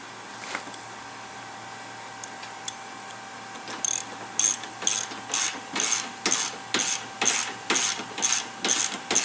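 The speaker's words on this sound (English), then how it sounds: "Then you can go ahead and tighten these right down and torque them down." A ratchet wrench clicks in quick, regular bursts while tightening and torquing windshield bracket bolts on a 2019 Polaris RZR 1000 XP / Turbo side-by-side. The bursts repeat about a dozen times, close and distinct, with no talk.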